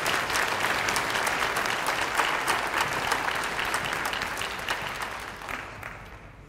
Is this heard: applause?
yes